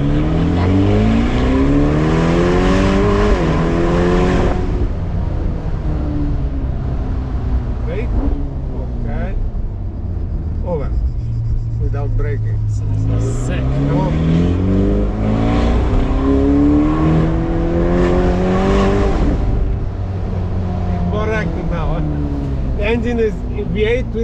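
Ferrari 488 Pista-style Performante twin-turbo V8 of about 600 horsepower accelerating hard on an Italian road, loud rising engine pulls repeating through the clip under frequent talk from people inside the car.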